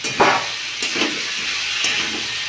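Potatoes tumble into hot spiced oil, setting off a bright, steady hissing sizzle with a few soft clatters as the pieces land, close and without talk.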